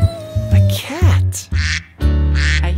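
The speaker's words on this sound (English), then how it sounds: "I hear a duck." A duck quacks several times in a children's song, loud nasal calls in quick succession over a bright musical backing.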